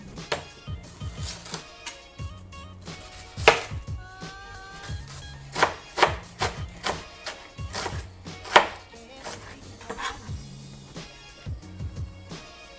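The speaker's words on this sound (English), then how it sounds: "I'm going to chop that up a little finer. Same thing with the red cabbage." Knife chopping red cabbage finely on a cutting board for fish taco slaw: uneven bursts of sharp close taps, some rapid runs and some single heavy strikes, with no speech.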